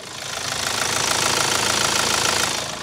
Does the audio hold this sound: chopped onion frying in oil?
no